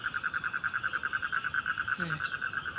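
Frogs croak outdoors at sunrise in a steady, rapid pulsing chorus that runs alone throughout, with a brief lower call breaking in near the end.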